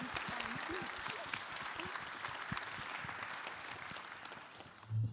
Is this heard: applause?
yes